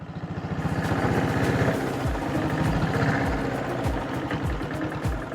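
A 1976 diesel Royal Enfield Bullet motorcycle thumps close by with a steady loud beat. The revs climb and drop sharply several times as it shifts up through the gears.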